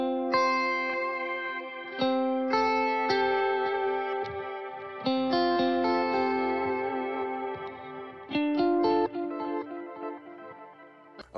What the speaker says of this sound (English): Here is the ice on the Strymon timeline.